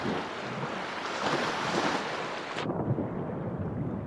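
Underwater sea ambience in the video game ABZÛ: a steady, full wash of muffled surf-like roar that drops away sharply in its upper range partway through, then continues as a darker, lower rumble with no voices.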